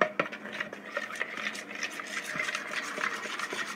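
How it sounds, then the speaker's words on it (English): Glossy slime being stirred and mixed with drops of food coloring dye, giving soft, wet squelching and scraping strokes in an irregular rhythm, close up and fairly quiet. "Then you're just going to want to mix up the dye in the slime"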